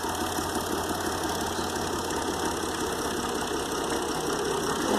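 A tractor engine running after being cranked, a steady loud mechanical drone with knocking and vibration, close by and continuous, with no talk.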